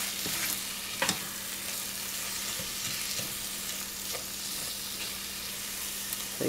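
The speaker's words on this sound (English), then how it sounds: "now it's time to add your onions. Just gonna let those cook" Onions cooking in a pot for broccoli cheese soup, giving a continuous close frying sizzle with a few sharp clicks and stirring taps scattered through it.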